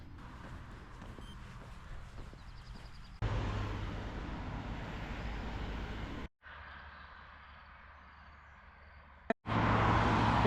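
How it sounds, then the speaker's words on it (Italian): Steady road traffic noise from cars along a German federal highway (Bundesstraße) near Garmisch-Partenkirchen, a continuous roar with abrupt level shifts and brief dropouts, passing vehicles heard from the roadside with no talking. "nonostante il rumore delle macchine"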